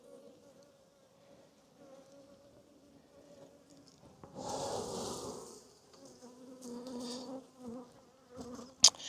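Honey bees buzz at a low hum at a hive throughout, with a louder rustling burst midway and some handling noises, ending with a sharp click.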